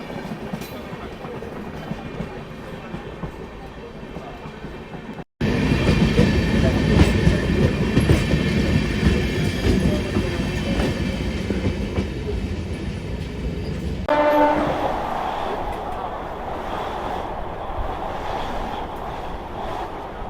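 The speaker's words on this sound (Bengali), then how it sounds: "বন্দে ভারত এক্সপ্রেস ক্রস করছে" A Vande Bharat Express train crosses close by on the Barddhaman–Howrah chord line, a loud sustained roar of rushing cars and wheel rumble that starts abruptly and runs for about nine seconds before easing into a quieter onboard rumble.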